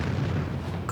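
A video-game explosion in Pokemon Shield, a dense, continuous low rumbling boom that fills the whole second at steady loudness with no voices.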